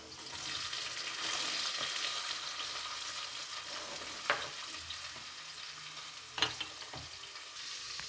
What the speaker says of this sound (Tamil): நீல வாக்கில் கட் பண்ண 2 வெங்காயம் நம்ம போட்டு வதக்கிக்கணும்